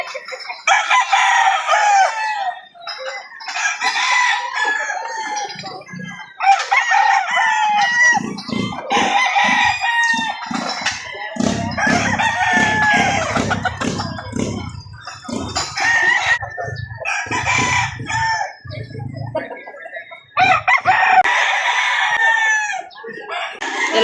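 Chickens and roosters on a Lipa City farm crow repeatedly and cluck in bursts, loud and near, with several birds overlapping through the stretch and a low rumble underneath midway.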